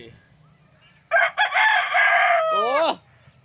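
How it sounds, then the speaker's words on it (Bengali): After a quiet moment, a rooster lets out a loud, close crow that rises, holds, and trails off near the end. "মোরগের ডাক শুনতে কার ভালো লাগে"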